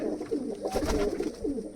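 Several racing pigeons coo in a low, rolling murmur, close by and continuous, with a slightly louder swell in the middle and no one talking.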